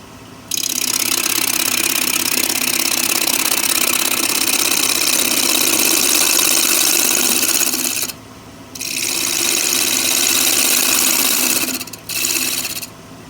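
A wooden post spins on a wood lathe while a gouge cuts deeper toward a cove, giving a steady loud rasping hiss that breaks off briefly twice near the end.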